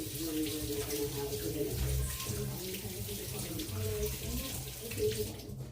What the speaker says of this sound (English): I'm washing my hands from the grease from the container.